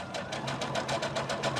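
A sewing machine stitches steadily down a straight line while making a Velcro bag, its needle keeping a fast, even rhythm with a motor hum underneath, close and moderately loud without any talking.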